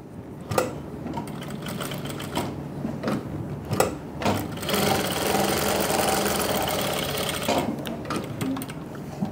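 A sewing machine stitches a seam right alongside buckram, running in quick mechanical bursts that then settle into a longer continuous whir, close and clear with no talking.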